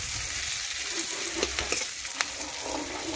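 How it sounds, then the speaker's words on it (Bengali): Finely chopped onion fries in oil tempered with black cumin for a fish curry, a steady close sizzle with a few sharp pops and stirring scrapes. "পেঁয়াজ একটু নাড়াচাড়া করে লাল লাল একটু ভেজে নিচ্ছি"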